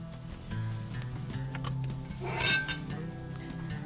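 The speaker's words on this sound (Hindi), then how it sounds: "और हम लेंगे एक प्लेट जिसमें जो है हमने अपनी डिश को निकालना होगा, डिश आउट करना होगा।" Plates and dishes handled in a home kitchen while plating a dabu chicken dish: light clinks and chinks of crockery and cutlery over a steady background hum, with one brighter clatter near the middle.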